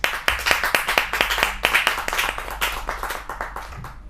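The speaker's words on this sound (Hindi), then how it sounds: "एक बार बहुत जोरदार तालियों के साथ स्वागत किया जाए प्रवीण आर्य जी का।" Audience at a Hindi kavi sammelan poetry recital claps in a loud, even burst of hand claps that starts abruptly and gradually thins out over a few seconds.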